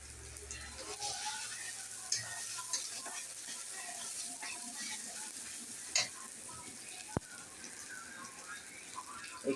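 Chopped tomatoes sizzle in a pan of chana curry, a soft, constant frying hiss with occasional scrapes and clicks of a utensil stirring, faint overall, with a voice talking nearby.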